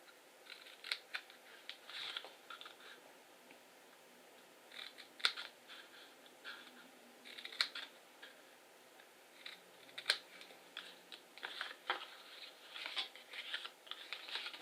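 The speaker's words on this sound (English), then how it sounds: "just making slight snips in" Scissors making small snips into card while cutting a box for a Christmas sleigh craft: quiet, close, irregular crisp clicks scattered throughout, with no voice.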